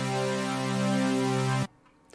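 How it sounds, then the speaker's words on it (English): With the phase knob turned to 100, a Harmor synth plays a lush, wide sustained chord, loud and steady for about a second and a half before stopping sharply into quiet. "And now you grab this phase knob and turn it up all the way to 100"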